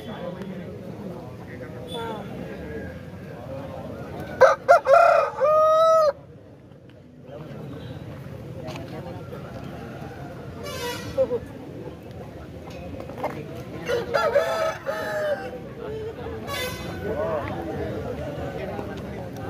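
Roosters crowing at a Saturday country chicken market, several loud nearby crows rising above steady market chatter, with clucking and people talking throughout.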